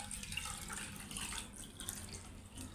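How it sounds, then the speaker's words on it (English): Water pouring from a tap into a vessel with four side exits kept closed for a water pressure science experiment, a steady splashing, trickling stream heard close and alone. "I'll keep all these closed and we will fill it with water"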